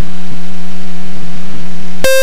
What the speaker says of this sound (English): the alarm is so annoying